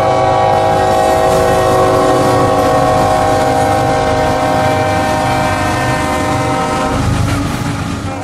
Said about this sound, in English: This is Q606, northbound out of New Orleans to Waycross, Georgia.